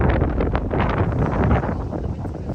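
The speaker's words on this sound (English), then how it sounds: "It's getting windy." Strong wind on a shoot day buffets the microphone in a continuous rumbling roar, loud and close, with no voices.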